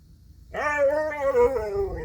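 A dog whimpers with a long, high, wavering whine that rises and falls for over a second, close and fairly loud, with no clear barks.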